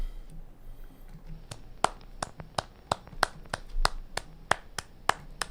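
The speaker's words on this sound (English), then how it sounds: "That's me clapping, by the way" A man claps his hands in a steady series of sharp, distinct claps, roughly two per second, close and fairly quiet over a low background hum, with no talk.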